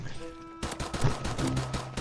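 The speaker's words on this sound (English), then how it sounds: "shot you with a pistol" Pistol gunshots in the video game Modern Warfare Remastered, a rapid string of sharp shots that starts abruptly and continues through to the end over game sounds.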